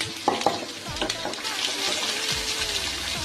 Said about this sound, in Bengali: সব ভালো করে লাল লাল করে ভেজে নেব।